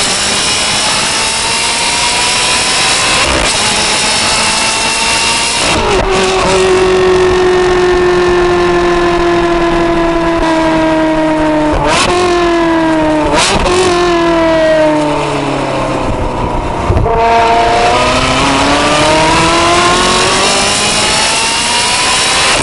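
Ferrari 360 engine revving hard in sport mode, loud and close, with rising pitch sweeps cut by several quick gear changes that drop the revs before climbing again, continuous throughout.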